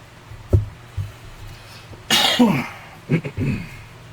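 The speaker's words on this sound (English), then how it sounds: "got a little bit of cough" Several sharp coughs close to the mic, a couple of short ones followed by a harsher, longer bout, with brief pauses between.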